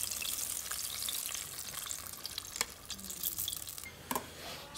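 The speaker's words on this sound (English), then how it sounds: "those are going to deep fry for about 2 to 3 minutes" Spring rolls deep fry in hot oil in a homemade deep fryer, giving a continuous dense sizzle and crackle with a few sharper pops and bubbling bursts, steady and close throughout.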